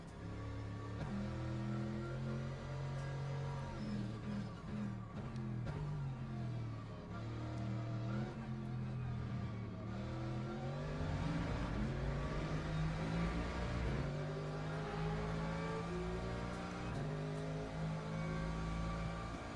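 Race cars in the Le Mans Ultimate racing simulator drive and overtake on track. A continuous, fairly faint engine drone rises and falls in pitch as cars accelerate and pass close by.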